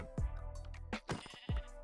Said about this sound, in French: Hop, les petits moutons, non, vous venez là,